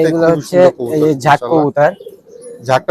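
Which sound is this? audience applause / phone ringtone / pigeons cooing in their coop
pigeons cooing in their coop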